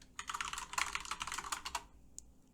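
Computer keyboard keys pressed in a quick burst of dense, clicky taps for a shortcut in DaVinci Resolve 17 editing software, close and fairly quiet, then a single faint click after a pause.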